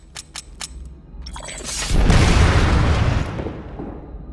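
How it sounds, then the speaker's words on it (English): A rocket launcher blowing up an enemy vehicle in the PC shooter game PlanetSide 2: a few quick clicks, then a rising whoosh swelling into a deep, loud rumbling blast that lingers for over a second before fading. "Switch to your rocket launcher and use it to blow up an enemy vehicle."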